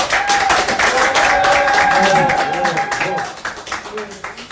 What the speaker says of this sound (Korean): 다시 한번 큰 응원의 박수 보내주시기 바랍니다.